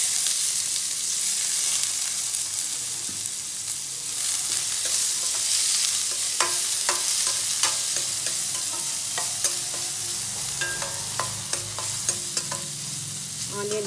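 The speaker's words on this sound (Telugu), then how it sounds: "ఆనియన్ కొంచెం లైట్ గోల్డెన్ కలర్ వచ్చేంత వరకు ఫ్రై చేసుకుందాం" Onion fries in a pan for bhindi masala curry, giving a continuous bright sizzle with intermittent clicks and scrapes from a stirring spoon. The cooking is close and steady, with no talk.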